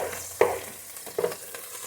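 Ground turkey sizzles in a skillet while a utensil scrapes and chops through it, steady frying hiss punctuated by two sharp scraping strokes and a few lighter taps.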